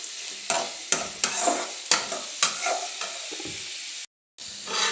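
Tomatoes sautéing in a pan for chutney give a steady close sizzle and hiss, broken by repeated stirring scrapes and taps against the pan, with a brief dropout near the end.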